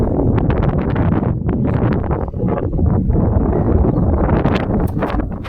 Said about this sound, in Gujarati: વાયરો ફૂલ આવે